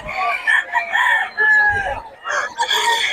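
A rooster crows loudly and close, a couple of stretched calls with short breaks, standing alone without talk.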